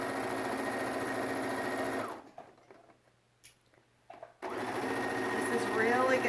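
A sewing machine runs a straight line of stitches along a pillowcase, holding three layers of fabric together. The motor hums steadily in two long runs with a quiet pause between them.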